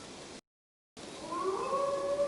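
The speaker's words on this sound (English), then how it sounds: "that is not the sound of a dog, Ira. That is a wolf." A wolf howls in the Assassin's Creed Valhalla video game. A brief muffled bed of sound cuts to silence, then a faint, drawn-out howl rises and wavers over a low ambient hush.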